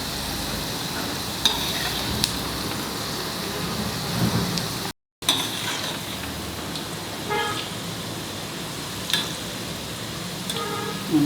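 Okra fries in a pan with a steady, dense sizzle and crackle throughout, broken by a few sharper pops and one brief dropout.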